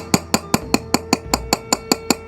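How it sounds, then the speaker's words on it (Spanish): Light, evenly spaced hammer taps strike a ceramic bonsai pot, about a dozen sharp ringing clinks in a steady rhythm, close and alone. "el truco consiste en darle pequeños martillazos"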